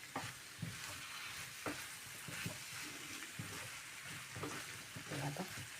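Okra tossed with masala in a hot pan gives a soft, continuous sizzle, with a few dull knocks and scrapes from stirring, fairly quiet and close.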